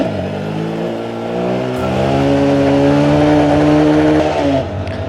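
A Honda Grom motorcycle engine revs up and holds a steady, loud drone with rising pitch, heard up close with no talking.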